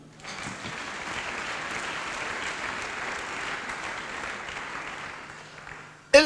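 Church congregation applauding in acclaim during a sermon, a broad sustained roar of many hands clapping that holds steady for several seconds before a sudden loud bump at the end.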